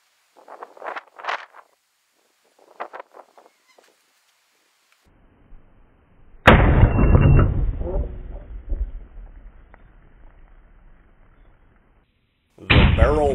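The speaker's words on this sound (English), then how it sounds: "loading it up with an extra hot load, firing it remotely, and inspecting it for any damage" A remotely fired rifle barrel, being proof tested with an extra hot load, gives one loud sharp report with a decaying echo, followed later by a second sharp burst, after some faint earlier sounds.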